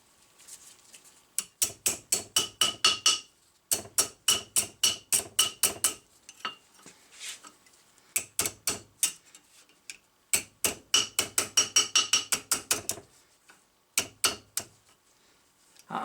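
Metal for a wagon brake repair being hammered on a brake rotor used as an anvil, loud close ringing hammer blows in quick bursts of several strikes, separated by short quiet pauses.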